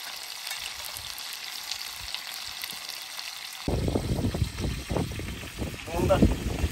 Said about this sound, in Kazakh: Бірінші қуырып алайық.